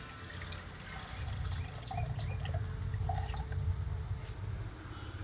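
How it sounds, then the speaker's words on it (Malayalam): Tap water runs into a mixer grinder jar, a steady close trickle and splash that fills the jar with no one talking. "അപ്പോൾ ഇതിലോട്ട് കുറച്ച് വെള്ളം പിടിക്കാം കേട്ടോ."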